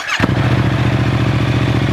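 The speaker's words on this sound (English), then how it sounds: "Oh yeah, that fired up nice and easy." Wrecked motorcycle with 6,711 miles starts up: a brief crank, then the engine catches and settles into a steady, close, rhythmic idle, with no talk.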